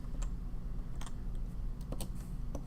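Keys tapped on a computer keyboard while entering values into a spreadsheet-style program, a loose run of light, sparse clicks over a steady low hum, quiet and close.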